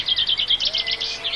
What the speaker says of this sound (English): There's a chaffinch over behind you somewhere.